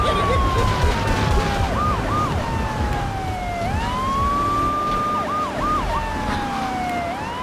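Police sirens wail in GTA III Definitive Edition, rising and falling tones with quick yelping bursts over a constant rumble of game traffic and engine noise, loud and continuous.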